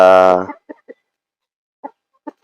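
Backyard chickens cluck in a few short, soft bursts after a loud rooster-like call at the start, with quiet gaps between, close by on a small farm with breeds such as Black Australorp and a North Indian Asil rooster.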